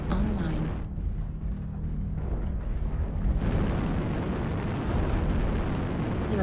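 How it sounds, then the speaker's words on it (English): Airstrike blasts in a mech combat video game rumble heavily and continuously, a loud wall of explosive booms swelling again partway through, with faint voice chatter mixed underneath. "Airstrike online."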